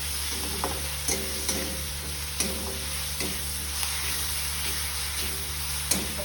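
Curry leaves sizzle and crackle in hot oil in a pan, a steady frying hiss with small pops and occasional stirring clicks, heard close and alone while making spicy vada pav filling.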